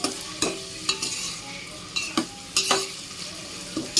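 Onions and curry leaves sautéing in a pan for Tamil coconut milk rice, with a steady low sizzle broken by sharp, repeated scrapes and clinks of a spoon stirring every half second or so, close and clear with no voices.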